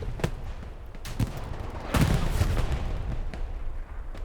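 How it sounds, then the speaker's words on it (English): Grenades and other explosives go off in a competitive Hell Let Loose-style WWII match, a run of sharp bursts and booms sounding at varied distances, with the heaviest blast near the middle over a steady battlefield rumble. "Big nades going off as well."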